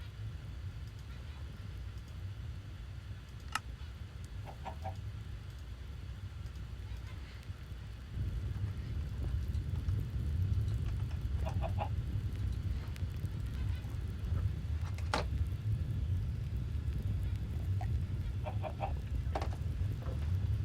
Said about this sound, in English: I seem to have a chicken problem.